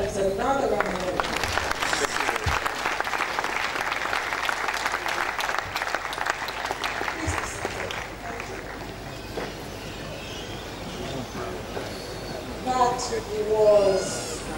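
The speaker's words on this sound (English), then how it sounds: "I think he deserves another round of applause." Applause from a university lecture audience rolls on steadily, slowly thinning out, with a voice speaking over the last few seconds.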